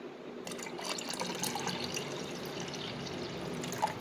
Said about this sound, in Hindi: इसमें हम आधा गिलास हम पानी डालेंगे।